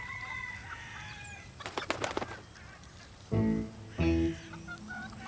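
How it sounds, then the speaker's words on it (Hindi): A burst of wing flapping followed by two short, loud clucking squawks from nearby roosters over a quiet background. "ये तो मुर्गे हैं यार।"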